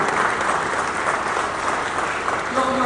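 Steady audience applause at a university's 70th anniversary launch event, a dense continuous clapping that holds at an even level throughout, with no talk over it.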